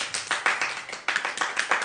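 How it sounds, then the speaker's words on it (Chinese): A small group in Haikou claps by hand in a quick, uneven run of distinct claps, faint and close, with no talking over it. "掌声。"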